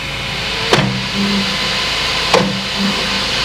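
An Elegoo Centauri Carbon 3D printer gives a steady mechanical hum with a constant hiss, broken by two sharp clunks about a second and a half apart, each followed by a brief whirring motor.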